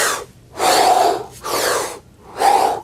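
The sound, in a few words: demonstration of breathing in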